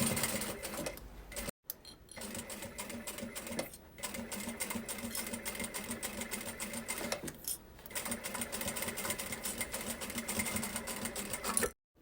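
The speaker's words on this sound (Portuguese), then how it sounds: "E vamos passar essa costurinha." A sewing machine stitches a binding seam on fabric for a small insulated lunch bag, running in steady rapid bursts up close with two brief pauses where the needle stops.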